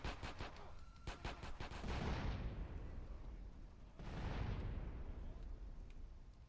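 Grenade explosions in GTA San Andreas: a quick volley of sharp game gunshots is followed by two deep, rumbling blasts a couple of seconds apart, each decaying into a long roar.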